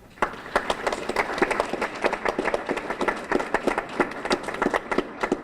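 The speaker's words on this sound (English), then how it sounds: "give everybody in this room a round of applause" An audience in a room at an opening session applauds with a modest round of clapping, individual claps distinct and somewhat uneven, held at moderate loudness for about five seconds.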